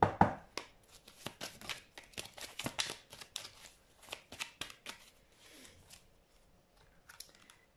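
Lenormand oracle cards being shuffled and drawn by hand, a close run of rapid riffling flutters and papery snaps that thin out into softer slides and taps toward the end, with no talking.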